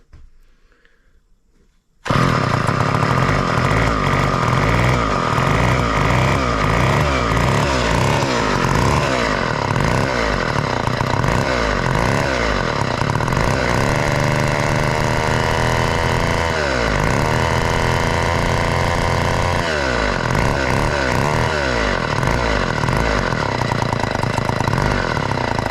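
After a quiet moment, an Ohlsson & Rice Drillgine small two-stroke engine from a 1/2-inch cordless drill starts and runs loudly up close, buzzing with repeated revving rises and falls.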